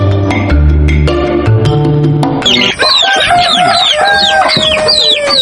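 Village chickens cluck and squawk in a busy, close chorus of short calls, following a few seconds of other tonal sound.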